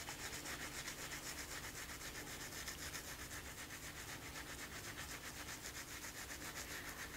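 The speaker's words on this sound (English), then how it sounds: "You should not be scrubbing your skin, only your nails." A surgical scrub brush rubs fingernails in a continuous rhythmic scrubbing, a quiet, even bristly rasp with no pauses and no talk.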